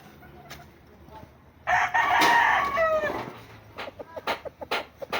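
A rooster crows loudly close by, followed by a series of short clucks and rustling scratches from chickens.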